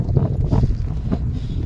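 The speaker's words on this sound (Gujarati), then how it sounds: "બાકી હવા એટલી આવે છે ને," Strong wind buffets a microphone on a highway on the way toward Ladakh, a steady low roaring rumble that fills the short stretch without a break.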